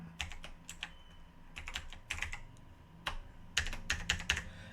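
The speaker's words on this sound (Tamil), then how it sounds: "டைரெக்டாக பாஸ்வேர்டு டைப் பண்ணிக்கோங்க." Keys are typed on a computer keyboard while entering a password, clicking in irregular bursts of quick taps with short pauses, close and fairly quiet, with no voices.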